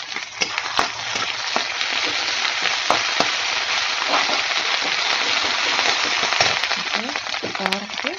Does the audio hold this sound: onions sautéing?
yes